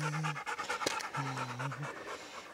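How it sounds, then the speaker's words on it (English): A dog pants hard and fast, close by, while climbing a mountain trail up Hadley Mountain toward the fire tower; the quick rhythmic breaths run steadily throughout. "Oh, look, there's Chewy the dog"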